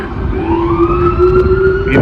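A rising emergency siren wails over steady city traffic noise in Boston, loud and fairly close, its tone sweeping upward and holding.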